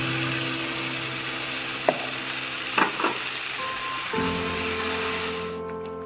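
Tomato puree with cashew paste bubbling in a pan, a steady soft sizzle broken by a few utensil clinks and scrapes, fading out at the very end.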